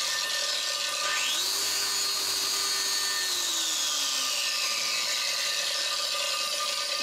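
An angle grinder switches on and its motor whines up to a high, steady pitch. After a few seconds it gradually winds down, heard alone against a faint background hiss.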